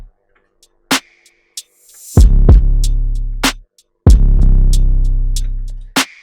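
A reversed open hi-hat in an FL Studio hip-hop beat swells up into a deep booming 808 kick, with crisp hi-hat ticks scattered around the heavy bass hits.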